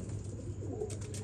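A pigeon kept by a pigeon fancier coos close by, a low steady throaty rumble with no other sounds.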